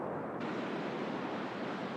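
Ocean waves washing over sand and rocks, a steady broad hiss of surf with no distinct breaks, fairly soft and continuous.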